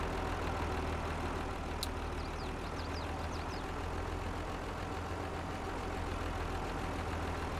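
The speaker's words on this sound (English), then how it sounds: "the Volvo engine keeps switching off." A Volvo tractor engine idles steadily in Farming Simulator 22, a low continuous rumble at moderate level that runs the whole stretch, with a few faint higher chirps over it near the start.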